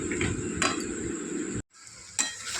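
Potatoes for aloo dum sautéed in a pan with garam masala, a close sizzling hiss with scraping stirs and a spoon tapping the pan, briefly cutting out before resuming.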